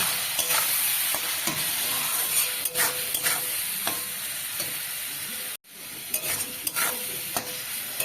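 Paneer stir-fried in a pan with a little soy sauce gives a constant close sizzle and frying hiss, with repeated spatula scrapes and taps and a brief dropout partway through.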